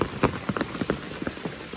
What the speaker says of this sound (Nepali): पानी पर्छ भन्दै परि नै सकेको छ